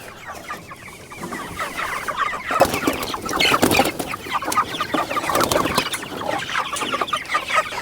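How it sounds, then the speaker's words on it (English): Young broiler chicks on a small farm peeping and clucking together as a flock, a busy, continuous chorus of close, fairly loud chirps with no talk. "let's check on the broiler chicks to see how they made out."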